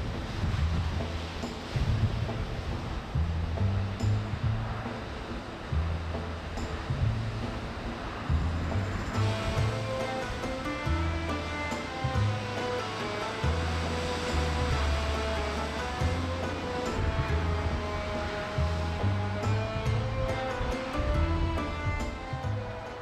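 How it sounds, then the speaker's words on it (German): Strong wind whipping waves into sea spray on the coast near Lyngvær, Lofoten, Norway, a steady loud roar of surf and gusts running throughout with no voices. "Ich spiele euch mal ein paar Bilder dazu ein, wie die Gischt spritzt."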